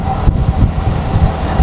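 Strong wind buffets a microphone while someone travels outdoors on a sunny day, a steady low roaring rush with a few gusty thumps and no talking.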